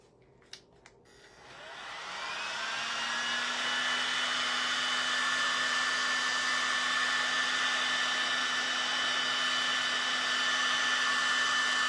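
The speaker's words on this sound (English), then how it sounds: "I'm going to grab my heat tool." A heat tool for crafting blows hot air as a steady, loud whooshing hum that starts after a couple of faint clicks, rises over about two seconds and then holds evenly.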